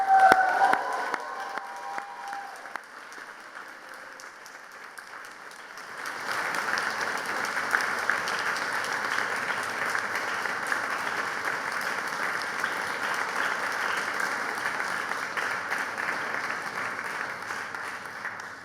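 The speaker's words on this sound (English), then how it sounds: "So we're going to applaud, whoop, cheer, as the Chancellor said." Graduation audience at a University of Manchester ceremony bursts into loud, sustained applause with whoops and cheers, a dense wall of clapping rising after a quieter opening and holding steady to the end.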